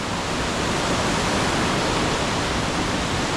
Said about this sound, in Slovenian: Zdaj smo pa nad tem slapom in bomo prečkali potok